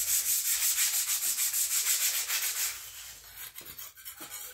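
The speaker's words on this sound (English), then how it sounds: "You advised me to use a sandpaper. This is a sandpaper." Sandpaper rubs back and forth over a surface in quick, even, close scratchy strokes that soften and break up toward the end.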